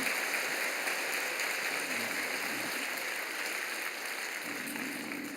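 Dense, steady applause from a large church congregation after a choir and orchestra's Christmas hymn fills the whole stretch, a continuous broadband clatter of many hands with no voices.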